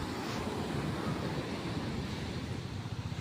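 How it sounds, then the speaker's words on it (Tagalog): Large ocean waves surge and wash steadily near a shore, a loud, continuous rumble of surf mixed with wind buffeting the microphone, with no voices. "malalaki yung alon dito"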